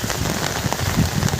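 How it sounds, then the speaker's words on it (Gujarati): Heavy monsoon rain pours onto a waterlogged road in Somnath, a dense, steady close-up hiss and patter with no break. "કેવો વરસાદ છે."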